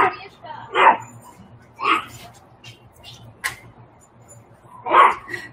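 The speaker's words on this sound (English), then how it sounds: "there's some neighbor dog fun happenings over here" A neighbor's dog barks a few times at a distance, with three or four separate mid-pitched barks spaced a second or more apart, quiet and outdoors beneath a person talking.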